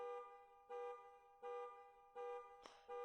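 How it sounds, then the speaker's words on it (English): A car alarm in a video game blares in steady, evenly spaced pulsing tones, four repeated bursts with a short gap between each, loud and alone with a brief clatter near the end. "The loud blaring of the car alarms"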